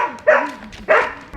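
Two dogs playing at home give two loud, close barks in quick succession, with a brief pause between them.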